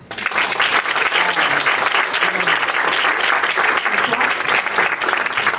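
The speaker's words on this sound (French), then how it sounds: "Anne Muxel et Pascal Perrineau, et vous pouvez les applaudir." Audience at a conference claps for two honored jury members, loud sustained applause from a full room that starts abruptly and holds steady and dense throughout.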